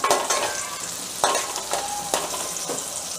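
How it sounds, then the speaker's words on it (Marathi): Onion, curry leaves and tomato fry in oil with a loud, close sizzle, stirred in a few distinct scraping strokes over a continuous hiss. "आता आपण कांदा, कढीपत्ता आणि टोमॅटोची तेलात परतून घेऊया आणि फोडणी देऊया."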